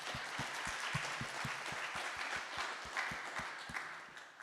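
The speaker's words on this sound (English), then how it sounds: "Let's give them a round of applause." Applause from a conference audience at a blockchain research workshop, a steady dense wash of many hands clapping at moderate distance, with low thumps pulsing regularly beneath it and the clapping tapering slightly toward the end.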